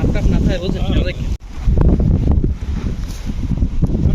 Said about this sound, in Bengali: ভীষণ রকম বাতাস এখানে।